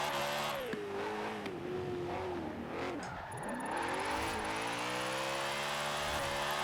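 Stock car engine in Forza Horizon 4, loud and close, revving through second gear with pitch climbing, a brief dip as it shifts, then pulling hard again; no talk.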